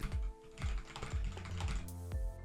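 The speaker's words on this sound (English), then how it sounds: "I'm currently typing on my laptop here" Laptop keyboard typed on at close range, a steady run of quick key clicks with a few heavier taps scattered through, and no talking.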